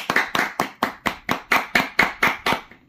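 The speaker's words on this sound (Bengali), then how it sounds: "আর একবার জোরে হাততালি হয়ে যাক" Steady, evenly spaced hand clapping for a contestant at a fashion beauty contest, about a dozen crisp, loud claps at a brisk rhythm, close by and without any talking.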